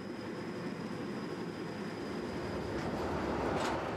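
A narrow-gauge train on the Kalka-Shimla line in India rolls into a station, a steady low rumble and rattle of wagons with a faint thin squeal near the end, moderately close.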